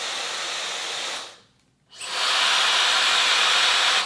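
A hair dryer, a Shark Flex, blows with a steady, loud whoosh, cuts out briefly, then roars back on slightly louder and keeps running.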